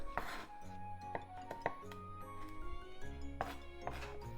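A knife chops squid on a cutting board in a few separate knocks, fairly quiet, with a soft hum in the background and no talking.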